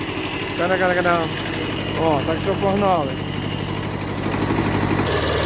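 A Kubota B5001 compact tractor engine runs steadily at a medium idle-like chug throughout, close and loud, while someone speaks over it.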